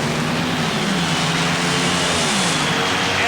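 Two 1987 NHRA drag racing cars roar off the line at the U.S. Nationals, Kenny Bernstein's car against Mike Dunn's, a loud, sustained broadband engine blast with rising pitch, steady throughout with no talk.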